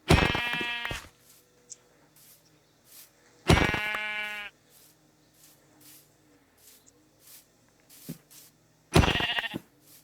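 Sheep in a video game bleating three times, each call loud and wavering with a strong harmonic tone, separated by quieter stretches holding faint clicks and soft game ambience.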